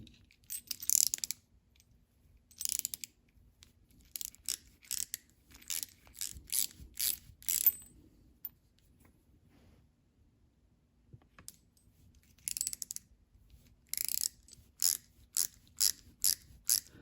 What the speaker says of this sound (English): All right, I screwed them in there and they went in pretty good.